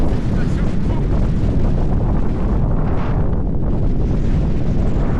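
Strong wind gusts batter a cyclist riding in the Gobi desert, producing loud, continuous buffeting roar across the microphone with surging intensity and no breaks.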